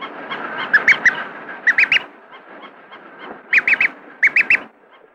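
A duckling peeps calmly while watching a moving toy, giving clusters of three or four short, clear, high calls close by, with brief quieter gaps between the bursts.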